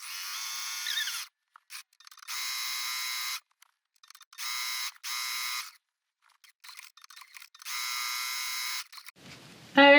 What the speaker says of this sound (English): I'm going to use the blade of the foot along the edge of the pocket and just top stitch along that